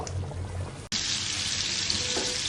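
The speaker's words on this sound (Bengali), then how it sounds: "আলু কেটে হলুদ লবণ দিয়ে তেলে একটু হালকা ভেজে নিচ্ছি" Cut potatoes with turmeric and salt frying lightly in hot oil, a close, steady sizzle that jumps louder after a brief break, continuing without pause.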